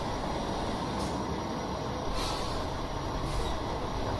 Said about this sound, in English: So it does look like an authentic entrance to a New York City subway station.